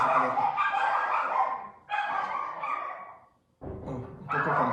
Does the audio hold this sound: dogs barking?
yes